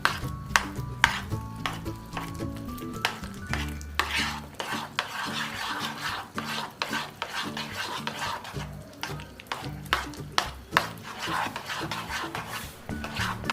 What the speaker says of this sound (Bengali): কোচানো কাঁচা লঙ্কা 1 চামচ দিলাম। অল্প পরিমাণ গোলমরিচের গুঁড়ো, 1 চামচ দই দিলাম। বেশ ভালো করে মিশিয়ে নেব।